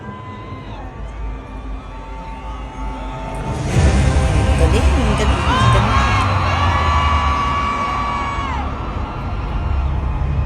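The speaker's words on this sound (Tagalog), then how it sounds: "Sigawan talaga mga tao." Concert crowd at a show screaming and cheering, a loud sustained roar of many voices swelling midway, with whoops and shrieks, while a nearby person speaks over it.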